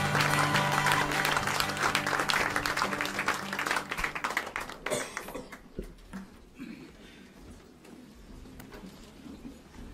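A church congregation applauding, with loud, dense clapping and cheering that swells and then thins out and fades over several seconds, leaving a quieter hall with scattered noise.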